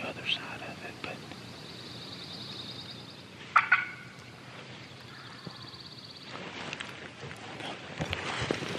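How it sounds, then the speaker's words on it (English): A wild turkey on Mississippi public land gobbles in the distance on opening day, a short burst standing out above a quiet outdoor background with faint rustling and soft whispered talk. "Turkey's gobbled 30 times"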